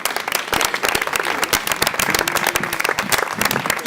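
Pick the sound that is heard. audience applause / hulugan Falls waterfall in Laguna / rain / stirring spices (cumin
audience applause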